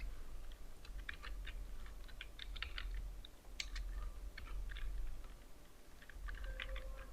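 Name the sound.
typing form name on computer keyboard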